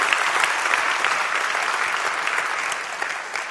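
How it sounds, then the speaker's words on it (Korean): An audience at a talk event gives loud, continuous applause, dense even clapping filling the room for a few seconds. "여러분들 박수 한번 다시 크게 한번 시작하시면서 토크 시작하겠습니다"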